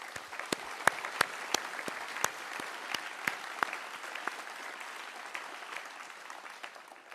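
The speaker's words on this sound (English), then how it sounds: "A big round of applause for them as well." Audience applause at the closing ceremony of the International Physics Olympiad in France, a steady dense wash of clapping with sharp individual claps popping out near the front, sustained throughout without talk.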